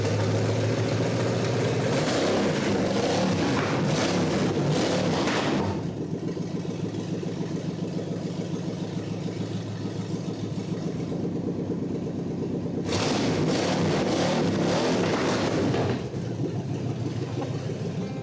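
A custom car engine at a car show, rumbling loudly and revving in bursts, then settling into a quieter idle before revving hard again, close by with no talk.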